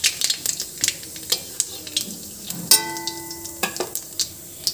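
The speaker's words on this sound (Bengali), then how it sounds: "তো আমি এর মধ্যে প্রথমে ফোড়নের জন্য দিয়ে দিচ্ছি কালো জিরে" Black cumin seeds hit hot oil for tempering an ilish fish curry with potato and eggplant, giving a light crackling sizzle broken by sharp utensil clinks and a brief ringing tone midway.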